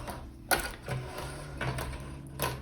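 Sewing a simple beanie, with mechanical whirring and clicking in a few short, close bursts over a steady low hum; no voices.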